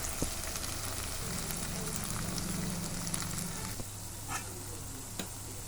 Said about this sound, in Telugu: చూడండి, మటన్ బాగా ఇందులో ఫ్రై చేయండి. ఘీలో